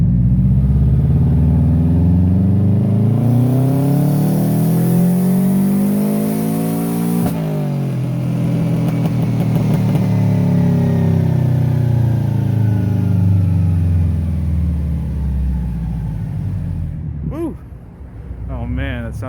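A turbocharged Subaru Legacy on a dyno revs up to 6,800 RPM, its loud engine note climbing steadily, then dropping, then rising again with a whooshing turbo sound before cutting off, while people talk nearby.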